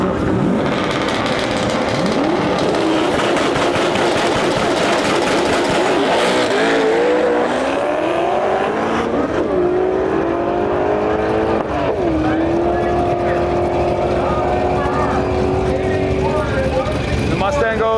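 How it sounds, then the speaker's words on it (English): A stick-shift Ford Mustang launches at a drag strip, its engine revving hard and climbing in pitch through several gear changes, loud and close over steady crowd and track noise, with a voice talking over it. "we got the stick shift Mustang pulling up to the line right now"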